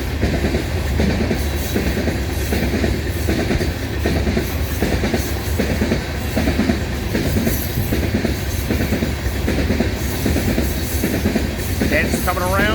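A loaded freight train rolls past at Fullerton, its heavy rumble and rhythmic wheel clickety-clack steady and close, with brief wheel squeal near the end and faint voices mixed in.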